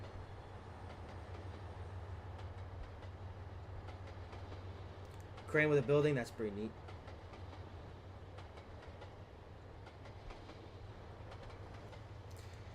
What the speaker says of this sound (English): There's another freight train.